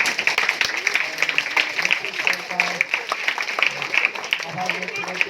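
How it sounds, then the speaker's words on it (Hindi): An audience claps loudly at a Hindi-language talk, a dense and steady patter of many hands that lasts throughout, with a voice audible over it. "एक बार हम जोरदार तालियों से"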